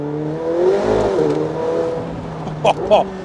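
A powerful 4-litre twin-turbo V8 in a McLaren 720S rumbles and revs nearby, with quick sharp bursts near the end as its 7-speed dual-clutch transmission shifts gears.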